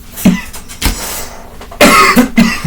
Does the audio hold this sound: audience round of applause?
no